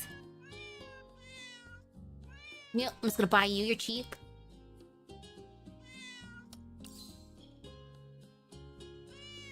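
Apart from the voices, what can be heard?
cats meowing in Girls' Frontline 2: Exilium cafe, video game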